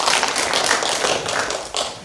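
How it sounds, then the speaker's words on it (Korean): Audience applause at a Korean public forum event, a dense steady patter of many hands clapping for about two seconds, fairly close and even, with no talk over it. "박수 부탁드리겠습니다."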